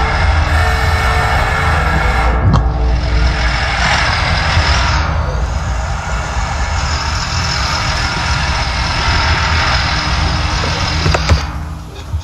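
A truck drives in a Roblox video game, its engine a loud, steady rumble with a shifting higher whine and a brief hiss, continuous and close.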